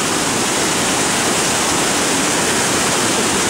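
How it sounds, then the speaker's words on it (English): A swollen river plunges over a waterfall, massive volumes of water pounding in a loud, constant roar that fills the whole scene with dense, unbroken noise. "Very, very, very massive amounts of water coming down here."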